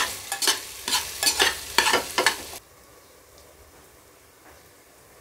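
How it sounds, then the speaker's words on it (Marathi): Onion frying in a pan with ginger, garlic and green chilli for masala khichdi, stirred in a quick series of scraping strokes over a soft sizzle, then only a faint hiss remains. "कांदा फ्राय होऊ देऊ"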